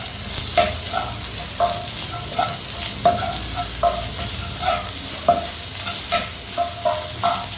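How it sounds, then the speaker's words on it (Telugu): Ginger garlic paste frying in oil for an egg curry while a spoon stirs it, a steady sizzle broken by regular scraping strokes against the pan, close and clear with no talking. "అల్లం వెల్లుల్లి పేస్ట్ కొద్దిగా యాడ్ చేసి పచ్చి వాసన పోయినంత వరకు కూడా దాన్ని బాగా కలుపుకోవాలండి"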